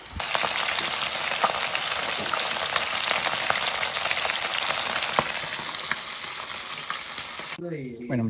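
Paco fish frying in hot oil, a loud, dense, steady sizzle that runs without a break before cutting off near the end.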